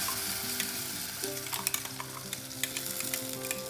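Ground chili, onion, garlic and tomato paste sizzle loudly in a hot pan for South Indian kara chutney, a steady frying hiss with stirring scrapes and clinks throughout.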